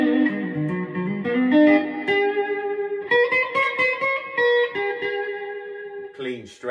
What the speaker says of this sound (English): This is the bridge position on the humbuckers.